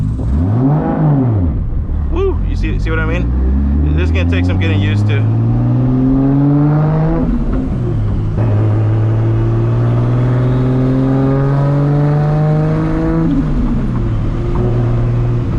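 A 1000+ hp MK4 Toyota Supra accelerates hard through its gears, a loud, close engine note rising in pitch, dropping at each shift and climbing again several times, with someone talking over it.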